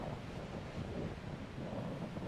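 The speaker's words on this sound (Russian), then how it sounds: "Ревущий поток воды срывается каскадом из 2 ступеней в глубокий каньон" Roaring Gullfoss waterfall in Iceland, a torrent dropping in two steps into a deep canyon, gives a steady, dense broadband rush with no breaks, heard alone at moderate level.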